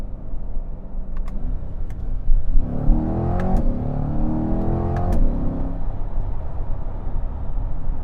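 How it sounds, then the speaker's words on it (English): Chevrolet C8 Z51 Corvette dropping a gear on a paddle command, a quick rising engine blip near the middle of a steady cabin drone, with small clicks around it. "Watch how fast it downshifts."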